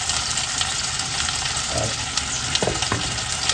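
A salmon head and jaw sizzle in oil in a pan, a dense, steady frying crackle with occasional sharper pops and faint stirring clinks, close and continuous.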